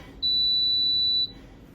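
An oven timer sounds while a tortilla chicken casserole bakes: a single steady, fairly loud high-pitched beep lasting about a second, then quiet room tone.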